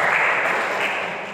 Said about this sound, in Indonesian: Boleh gak kita tepuk tangan untuk Tuhan Yesus?